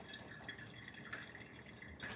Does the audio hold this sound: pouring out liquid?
yes